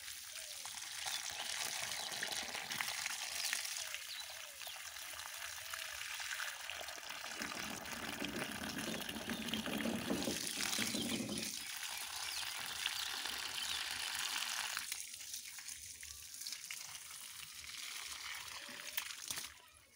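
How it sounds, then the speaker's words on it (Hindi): Water pours from a container onto a potted aloe vera plant in a home garden, a continuous splashing trickle lasting most of the stretch and swelling in the middle, with faint outdoor background. "और यहाँ भी मैं एलोवेरा में थोड़ा पानी भर देती हूँ।"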